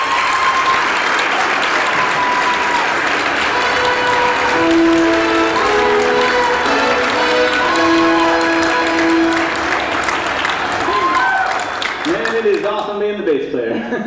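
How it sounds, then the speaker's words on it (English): A concert audience at a spring Celtic Revival show applauds loudly and continuously, a thick wash of clapping with scattered cheers and lingering instrument tones, thinning out near the end. "sometimes the applause gets a little overwhelming"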